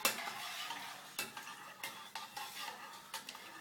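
A whisk or spoon stirs a panna cotta mixture with vanilla in a pan, giving soft scraping swishes broken by a few brief clinks against the pot, fairly faint and close, with no talking.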